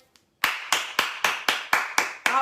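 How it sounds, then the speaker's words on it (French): Eight sharp, evenly spaced bursts of hand clapping ring out close and loud during a French-language livestream, with no other sound between them. "Applaudirez-le. Mettez les cœurs."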